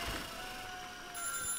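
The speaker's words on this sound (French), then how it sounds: "Téléphone." A telephone rings in the factory-management video game Little Big Workshop, a faint steady electronic ringing tone that stays quiet and continuous throughout.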